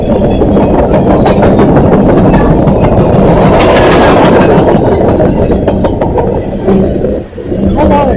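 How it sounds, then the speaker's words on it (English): A loud, steady roar of a 100-car freight train rolling past up close, with rhythmic clatter of wheels on the rails throughout. "That is a long train. That's a 100-car train."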